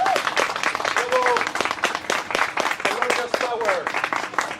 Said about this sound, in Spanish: Yo les pido un fuerte aplauso, por favor